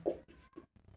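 A marker or chalk moves across a board during a Hindi calculus lecture on partial differentiation, giving a few short scratchy strokes with brief pauses between them, close and fairly quiet.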